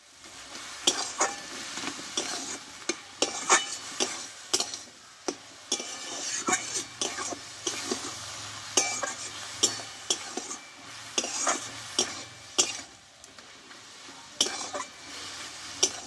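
Bengali-style chickpea greens cook in a pan under a low frying sizzle, while a spatula scrapes and clinks against the metal in a quick, uneven rhythm of repeated strokes.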